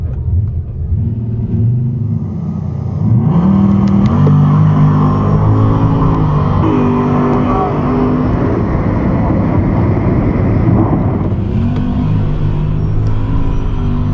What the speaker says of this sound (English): This is the Mustang with the 528 engine.